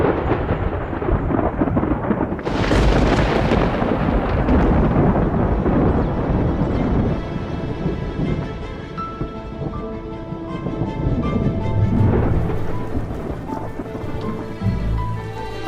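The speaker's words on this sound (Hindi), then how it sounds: "आखिरकार बारिश आ जाती है।" A thunderstorm breaks over Africa's Luangwa Valley with a loud, rolling crack of thunder that rumbles on for several seconds, under a steady hiss of heavy rain. A second deep rumble swells later.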